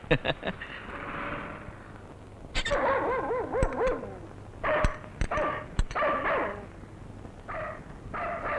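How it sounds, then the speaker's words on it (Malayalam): A dog barks in repeated short, sharp bursts close by, mixed with yips and whip-like cracks, with quieter gaps between outbursts. "ഈ പട്ടി എന്താ ഇങ്ങനെ കിടന്ന് കുരയ്ക്കുന്നേ"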